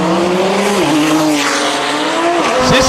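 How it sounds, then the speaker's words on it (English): A Porsche and an Audi RS3 race car launch side by side at a drag event, their engines roaring loud and close as the pitch climbs through gear changes, with tires squealing throughout. "Ciccio in the Porsche left-hand side and the Audi RS3 for Charlie Walsh"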